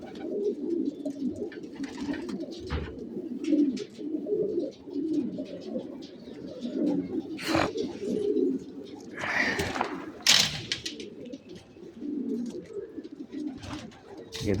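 Pet pigeons cooing on a hot day: soft, repeated throaty coos close by, with a few sharp clatters and wing or cage noises mixed in, and a voice speaking now and then.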